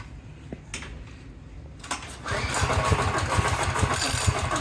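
Junkyard LS 5.3 V8 on a stand cranks with a few metallic clanks, then catches and settles into a steady, rumbling run with rhythmic low pulses, close and loud, with no talk.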